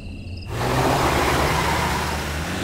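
A car in the video game Road 96 starts up, a broad engine rumble that rises sharply after a brief quiet moment and then holds steady and fairly loud at idle.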